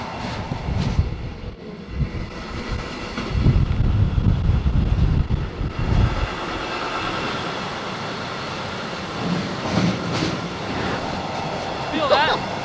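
Riding aboard an intermodal freight train in the Balkans, a heavy rumbling rolls and clatters steadily, with wind buffeting the microphone and occasional squeals and creaks of metal on rails.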